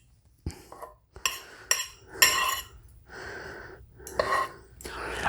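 Pots, dishes and cutlery being cleaned up in a kitchen after making ham bone stock, with a string of close, irregular clinks, clatters and scraping bursts separated by brief quiet gaps.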